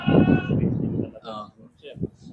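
Goats on a goat farm in Bauan, Batangas let out a loud, wavering bleat close by, followed by a few shorter calls and some nearby bustle.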